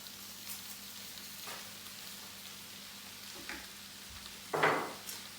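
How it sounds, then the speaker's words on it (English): Rice sizzling faintly in a paella pan with tomato puree, with a few scrapes of a utensil stirring it and one sharper scrape near the end, no talking. "Stir that around, let that soak up all the tomato puree and everything else that's in there."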